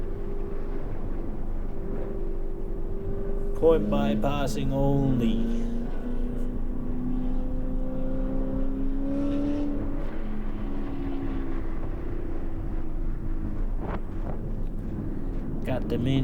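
A VW MK8 GTI pulling hard down the front straight at Shannonville track, the engine whine climbing through gears under constant wind buffeting, while someone talks over it in the cabin.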